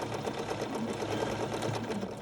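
A Bernina sewing machine running under power with its stitch regulator engaged, a steady close whirring and fast needle chatter continuing without pause.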